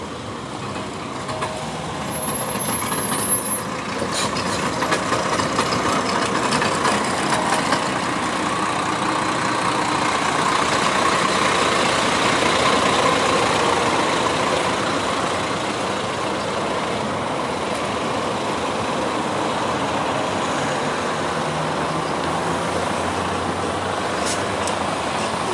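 A bus idles at a stop with a steady, continuous engine rumble that stays close and fairly loud throughout, with no clear breaks.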